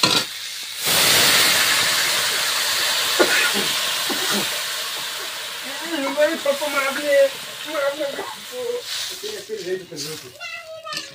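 Fish curry, with water newly added, bubbles in a pan and lets out a steady hiss and sizzle that starts loud and then fades beneath people chatting nearby.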